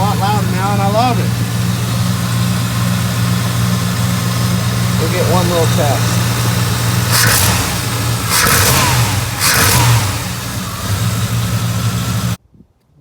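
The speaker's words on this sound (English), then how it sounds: "The truck sounds a lot better. It's a lot louder now" A 1988–95 Chevy TBI pickup with a 14-inch Edelbrock air cleaner, idling loud and steady, with a couple of quick throttle blips in the middle. Someone speaks briefly over the engine, and faint voices are heard.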